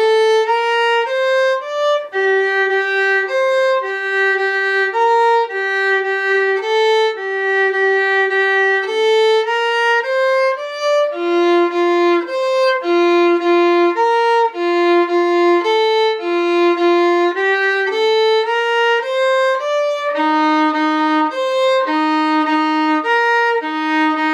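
A solo fiddle plays a section of the tune Catharsis, a clear, bright run of bowed notes in a steady lilting rhythm, loud and close with no talk.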